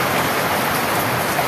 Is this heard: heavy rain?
yes